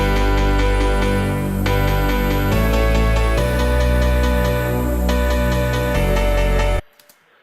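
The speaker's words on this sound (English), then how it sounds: "This is what I made for you guys. So this is the lead." Dubstep synth lead, a dense buzzy sustained tone shifting through a few held notes over deep bass, loud and steady before cutting off abruptly near the end.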